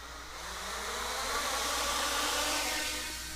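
An XK X251 quadcopter drone flies outdoors with a steady, high-pitched motor whine that swells slightly as it moves, with some wind in the background.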